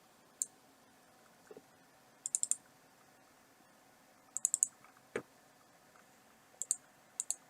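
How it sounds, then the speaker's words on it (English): A computer mouse is double-clicked repeatedly in quiet, sharp paired clicks spaced a second or two apart, with a soft tap in between and no voices. "I'm just double-clicking the bottom and the top"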